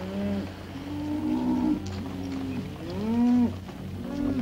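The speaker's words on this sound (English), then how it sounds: "Keep the cattle moving." Several cattle moo in long, low, drawn-out calls, one after another, clear and fairly close against a steady background rumble.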